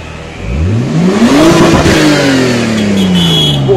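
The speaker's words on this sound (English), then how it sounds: "Could you rev it a bit?" A Nissan Skyline R34 sports car engine revs up sharply, its pitch climbing then easing into a loud, sustained roar close by.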